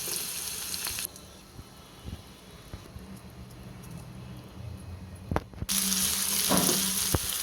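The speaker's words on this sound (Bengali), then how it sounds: "কড়াইতে তেল দিলাম, একটু রসুন দিয়ে দিলাম" Garlic fries in hot oil in a wok with a steady sizzle that grows into a louder, brighter hiss near the end, punctuated by a couple of sharp knocks, with no talking.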